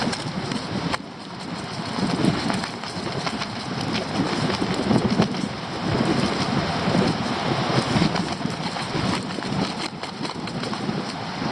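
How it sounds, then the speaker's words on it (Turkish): Steady, heavy storm wind at the seaside roars against the microphone with a broad rushing wash of sea waves underneath, continuous and loud throughout, with no voices. "Denizdeki dalgalara bakın abi. Rüzgara bakın."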